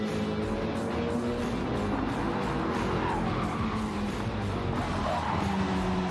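A BMW and a Mitsubishi race car battle at Suzuka in Gran Turismo 7, engines droning steadily with squealing tires, a constant loud wash of racing noise.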